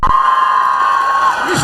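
A crowd at a carnival event cheers and shouts loudly and continuously, with a sustained whistle-like tone running through most of the noise.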